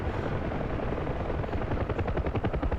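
UH-1 helicopter gunships in a DCS flight simulator game, a loud rapid rotor thumping that grows more pronounced and rhythmic toward the end, with no talk over it.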